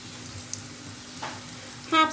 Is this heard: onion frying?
yes